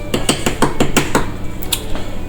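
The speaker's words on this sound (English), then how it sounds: "put that on the side, put the lid back on" A metal saucepan lid clatters and rattles as it is set back on the pan, a quick series of six or seven sharp clinks followed by a couple of fainter taps, close and loud.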